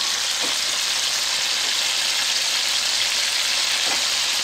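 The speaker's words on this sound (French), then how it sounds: "Puis là, on va rajouter nos oignons." Onions, shallot and green pepper added to a herring sauce frying in a pan give a steady, loud, broadband sizzle that fills the whole stretch, close up, with a couple of faint knocks and no talking.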